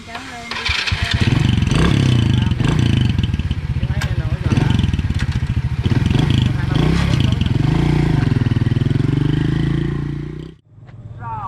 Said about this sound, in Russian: Он поехал. Мой мотоцикл.